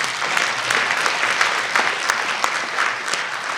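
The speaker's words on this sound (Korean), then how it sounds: "박수 한번 부탁드리겠습니다" Audience applause at a business entrepreneurship concert event, a steady full round of clapping from a seated crowd, sustained and even with no talking over it.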